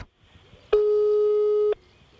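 A single steady telephone tone on an unanswered call, sounding for about one second, clean and loud against a quiet background, with faint low noise before and after.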